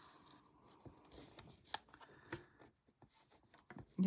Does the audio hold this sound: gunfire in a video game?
no